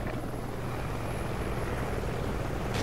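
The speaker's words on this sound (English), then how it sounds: "Friendly helo pilot active" A friendly helicopter in Call of Duty: Ghosts, its rotor and engine drone steady and loud throughout, with no talk over it.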